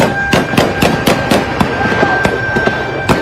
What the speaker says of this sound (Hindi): मुजाहिरीन की तरफ से फायरिंग की जा रही है पुलिस की जानिब से।